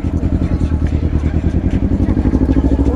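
A motorcycle engine runs at a close, steady idle with a rapid, regular pulsing throb, loud and low.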